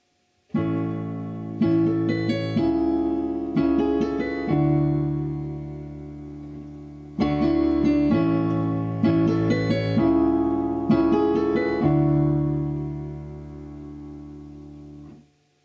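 Sustained piano chords from a song at 70 beats per minute ring out in a steady rhythm, notes overlapping and blending, with a pause midway before the pattern repeats and fades.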